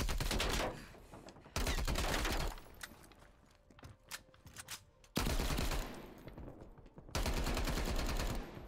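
Bursts of rapid gunfire in a Prop Hunt round, loud automatic volleys in three long blocks separated by quieter stretches of scattered shots and movement, with no speech.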